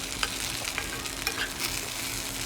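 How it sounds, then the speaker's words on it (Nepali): Spices being stirred in hot ghee for kheer: a soft continuous sizzle with faint scraping strokes of a spoon, steady and close, no voices. "यसरी एकछिन राम्रो चलाएर यो मसलाहरू यसरी घिउमा राखेर पुऱ्यायो भने"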